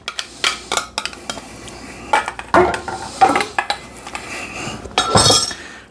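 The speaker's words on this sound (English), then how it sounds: "We're just going to run it through a wire mesh strainer." Aioli being worked through a wire mesh strainer, with repeated metallic scrapes, clinks and taps of a utensil against the mesh and bowl in an irregular rhythm, close and fairly loud.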